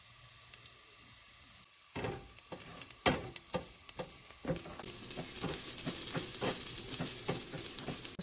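Pansit noodles cook in a pan in an apartment kitchen: a steady hiss of frying sits under repeated stirring and scraping clatters that grow busier and louder as the cooking goes on.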